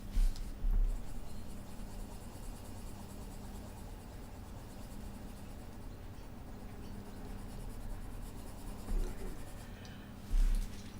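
Coloured pencil burnishing on Stonehenge paper, a soft continuous close scratching rub with a few louder strokes near the start and end, no voices.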